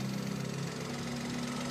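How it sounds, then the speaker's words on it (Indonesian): The 1000 cc three-cylinder engine of a 2015 Toyota Agya TRD Sportivo idles steadily up close, a smooth, even hum with a faint rhythmic pulse and no talking. "Dan ini suara mesinnya"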